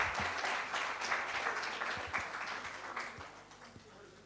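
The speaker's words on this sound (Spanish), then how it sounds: "Recibamos con un fuerte aplauso a María Rosa Flores" Audience applause at a conference on Antarctic macroalgae, a fairly faint, steady clapping that fades slightly toward the end.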